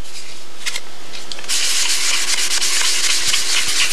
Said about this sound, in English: I'll just block sand down both edges so I don't have that puckering effect.